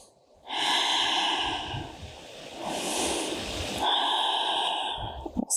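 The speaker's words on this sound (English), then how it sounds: "Just breathe right here." Slow, deep breaths during a yoga pose, a long audible inhale and exhale through the nose, close and clear, with a brief pause between them and no talking.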